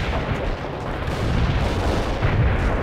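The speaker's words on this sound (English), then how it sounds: "Anti-tank strike is inbound." A continuous rumbling barrage of anti-tank strike explosions in World in Conflict, dense, overlapping booms and blasts rolling on steadily at fairly high volume with no pauses.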